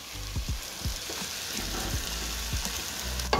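Asparagus and prawns cooking in stock, giving a steady close bubbling and hiss with soft irregular low thumps and a sharper knock near the end, with no voices.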